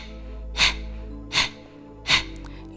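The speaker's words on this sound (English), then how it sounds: "In Kapalbhati, you forcefully exhale," Three sharp, forceful nasal exhalations of Kapalbhati yoga breathing during a power yoga session, evenly spaced and close, with quiet pauses between.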